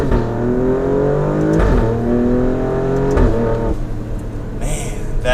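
A 2018 Alfa Romeo Stelvio Quadrifoglio SUV accelerates hard, its engine revving up through the gears with a loud, close, rising growl and brief breaks at each shift.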